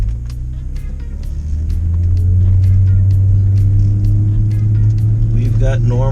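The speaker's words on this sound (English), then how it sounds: "shift it down into first gear here" Volkswagen Corrado idling steadily at close range while being shifted down into first gear, a low engine rumble that swells slightly and holds, with a voice speaking briefly over it.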